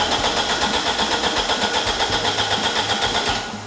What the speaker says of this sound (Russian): Включаем зажигание и производим пуск двигателя.